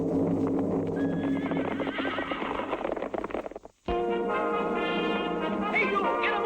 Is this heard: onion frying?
no